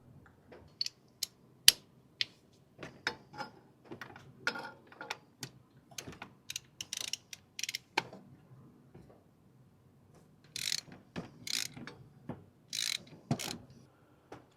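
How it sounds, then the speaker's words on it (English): A wrench working loose the oil filter on a Honda VFR800 motorcycle, heard as scattered close metallic clicks and ratcheting ticks with brief scraping bursts and no talk. "Now that we've loosened it, move the wrench and then just take it off"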